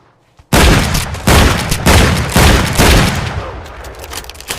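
A small double-barrel shotgun fires several loud, close blasts in quick succession outdoors, each a heavy boom trailing into ringing reverberation, with no talk over the shots.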